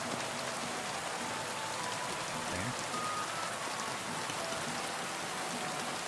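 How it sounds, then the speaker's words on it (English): Steady rain pours in the video game Kingdom Come: Deliverance 2, a dense, even hiss of falling water that fills the whole stretch without a break, with no talk over it. "oh god, it's raining here"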